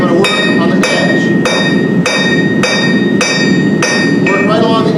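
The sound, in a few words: hammer striking workpiece on anvil edge, blacksmith cogging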